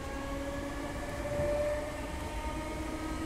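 An old DC electric multiple unit train gives off a steady traction drone with sustained whining tones, continuous and moderately loud with a constant rumbling bed underneath and no talk.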